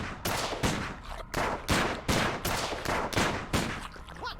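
Rapid string of about nine sharp gunshots fired at tentacles in a Sam & Max game, evenly spaced, loud and close, ending in a brief warbling tone.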